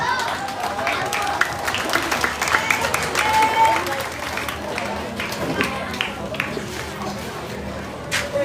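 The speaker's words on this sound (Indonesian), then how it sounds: "Kita berikan aplaus yang meriah." A crowd applauds to welcome a bishop at the opening parade of a SEKAMI children's camp in Sumbawa, NTB, with steady loud clapping and cheering sustained throughout and outdoor crowd noise beneath.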